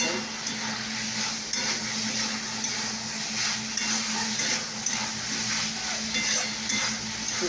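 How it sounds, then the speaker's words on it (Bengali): Bitter gourd fries in hot oil in a pan, giving a loud, constant sizzle, while a utensil stirs it with faint, regular scrapes and taps. "করলাটা ভাজা হয়ে গেছে।"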